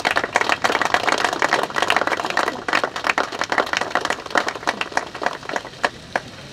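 Audience applause at a political event in Radom where candidates for city council are presented: dense, close hand clapping from a crowd, sustained and steady with rhythmic bursts throughout.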